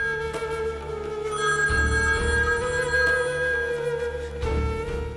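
A landline telephone rings with a bright electronic warble, repeating in steady bursts at close range, with a low background music bed underneath and no talking.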